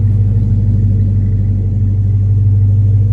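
A 2007 Dodge Magnum SRT-8 engine runs at a steady idle close by, giving a loud, deep, continuous rumble with no revving and no talk.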